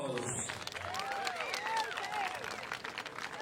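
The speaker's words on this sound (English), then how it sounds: "Y'all give Tater, Axel, and Noah one more round of applause" A crowd claps for a trio of fiddlers at the 51st annual Smithville Fiddlers' Jamboree, a steady wash of applause holding level for a few seconds at moderate distance, with scattered whistles rising and falling over it.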